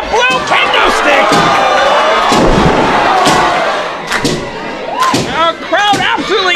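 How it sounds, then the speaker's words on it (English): Excited crowd at a wrestling anniversary event roars and cheers continuously, with thuds and slams from the ring and an announcer's voice shouting over the din. "Our crowd absolutely amped up here at our 23rd anniversary extravaganza"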